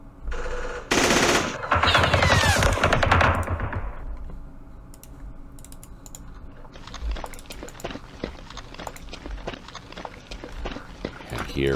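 Units trade gunfire in a Vietnam war strategy game set in the Battle of Hue: a dense, loud burst comes early, then scattered sharp shots and clicks spread out over quieter ambience.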